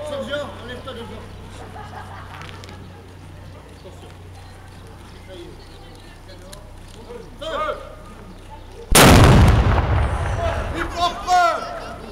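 A reenactment cannon fires at a living-history camp at Fontenoy, a single loud boom breaking over quiet crowd chatter and horse hooves, then rolling away slowly while voices continue.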